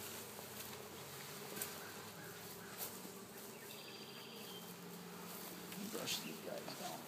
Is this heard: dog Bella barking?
no